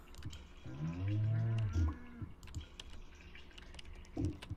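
Cows moo in the video game Stardew Valley, one long, loud low moo followed by a shorter one, over soft clicking and faint background sounds.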